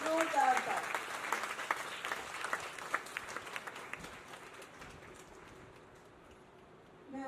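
Loud applause from a cultural-stage audience at a Kathak dance event in Bhiwani, dense clapping that thins and fades toward the end under a murmur of voices.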